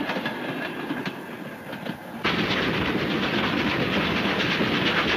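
Train running on rails in a 1934 adventure film scene, a steady loud rumble with clattering wheels that swells abruptly partway through and then holds constant, with no voices.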